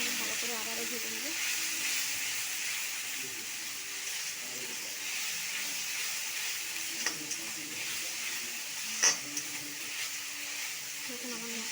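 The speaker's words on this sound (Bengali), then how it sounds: "এরপরে মশলাটাকে আমি ভালো করে আবারও ভেজে নেব" Ground spices, cumin, coriander, turmeric and Kashmiri chilli powder, fry in a pan with a steady soft sizzle and hiss, a few faint scrapes of stirring, and a voice speaking quietly over it.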